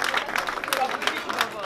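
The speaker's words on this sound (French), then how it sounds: "je voudrais qu'on l'applaudisse et qu'on le remercie" An audience applauding a president's representative at an event, a short burst of steady, fairly loud clapping with crowd murmur and some voices mixed in.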